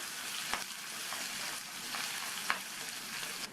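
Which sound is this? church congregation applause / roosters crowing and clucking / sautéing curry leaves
sautéing curry leaves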